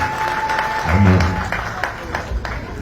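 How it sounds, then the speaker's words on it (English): A crowd claps for deputy Sarah John at a political gathering, loud and steady, while a voice talks over it briefly. "Making a clap for her, making a clap for her"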